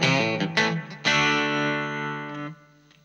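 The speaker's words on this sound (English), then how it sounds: "With the volume on 8, you've got something relatively clean-ish." A Fender American Special Stratocaster played with the guitar volume at 8, giving a mildly driven, edge-of-breakup tone: a few quick picked notes, then a big strummed chord ringing out and decaying, played alone.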